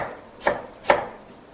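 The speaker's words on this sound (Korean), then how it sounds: "양파는 두께 채를 썰어 주시면 되겠습니다" Knife chopping an onion into thick strips on a cutting board, two crisp close cuts about half a second apart with a softer third, no talking.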